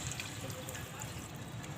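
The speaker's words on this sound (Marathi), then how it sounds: "हे गरम पाणी घालून घेते" Hot water poured into a pan of seven kinds of mixed vegetables, a steady quiet watery trickle and splash running without break for about two seconds, with no talking.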